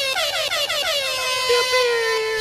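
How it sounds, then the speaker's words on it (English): A blaring air horn sound effect plays as one long loud blast whose pitch slides downward, cutting across a sports talk show. "Give me an air horn."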